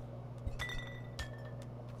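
Glass clinking in Untitled Goose Game, a video game: a couple of bright, ringing chinks about a second apart over a steady game-music hum, no talk.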